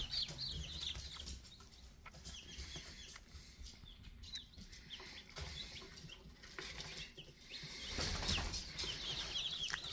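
Black and red chickens and baby chicks cheep and cluck in a busy, faint chorus, with peeping chick calls and scratching or fluttering sounds throughout.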